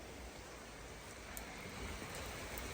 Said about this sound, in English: Really? More rain?